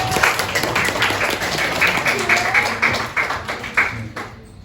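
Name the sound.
class of children applauding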